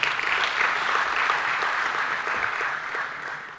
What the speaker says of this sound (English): Another round of applause for Richard.